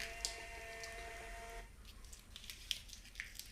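Built-in printer of a Glory GFS 120T counting machine printing a results slip: a steady whirring, buzzing print run of about a second and a half, then quiet clicks and small ticks nearby.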